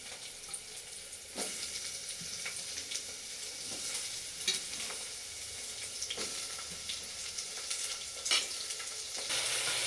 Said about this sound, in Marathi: तेलामध्ये टाकून द्यायचे एक एक करून. म्हणजे छान असं आपलं हे सगळं मग परतून निघतंय.